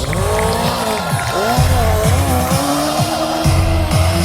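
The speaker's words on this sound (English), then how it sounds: "This is what they call a legend race car. Powered by a 1200cc motorcycle engine." Legend race car powered by a 1200cc motorcycle engine, close and loud, its tyres squealing in repeated sweeping skids over a revving engine drone at a drag strip show, with no pauses.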